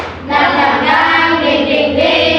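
Classroom of students doing a rhythmic spirit clap together during a lesson: a loud, sustained wash of many hands clapping in unison, close by, steady for about two seconds after a brief quieter start.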